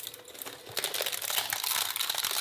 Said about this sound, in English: Oh, Mario crinkling. He's getting so shredded.